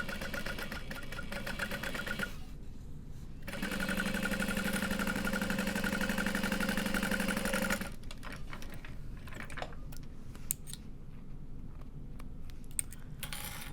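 Sewing machine stitching a 3/8-inch side seam on a hobo bag, a steady close mechanical whirr with a louder stretch in the middle and a few short pauses.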